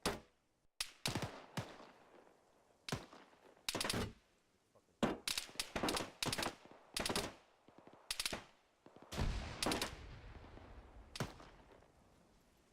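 Rifle and machine-gun fire in Arma 3 co-op combat, aimed at the left tower. Loud, sharp bursts and single shots come in irregular clusters, separated by quiet gaps, with almost no talking.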